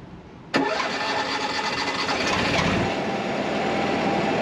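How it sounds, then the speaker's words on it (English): The onboard generator of a 44 ft toy hauler RV kicks on abruptly after a short quiet stretch, then settles into a steady, loud mechanical engine hum that runs without a break. "So all we have to do to start that generator, see this little button, turn it on,"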